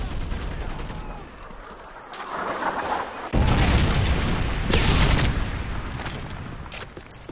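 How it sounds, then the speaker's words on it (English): A Predator missile strike in Modern Warfare 3 erupts as heavy booming blasts, with a loud broadband burst landing midway and another surging a second later, rumbling explosions and gunfire-like crackle filling the battlefield. "Friendly Predator missile inbound."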